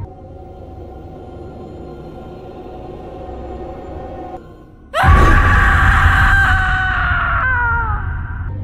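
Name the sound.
woman screaming sound effect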